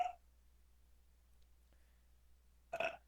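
A loud, close burp erupts near the end, preceded by a brief vocal sound at the start, with quiet room tone in between.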